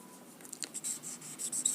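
Marker or chalk scratching across a board during a physics lesson on Kirchhoff's law, soft faint strokes in short bursts, close and quiet with no talk.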